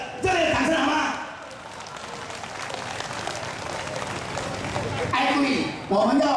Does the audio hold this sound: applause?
yes